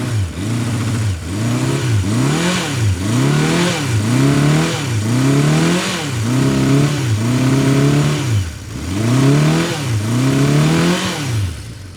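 A 1975 Honda CB550 K1 motorcycle engine warms up on a cold day with some choke, blipping in repeated rising revs that fall back, a steady rhythmic cycle, loud and close with no talking.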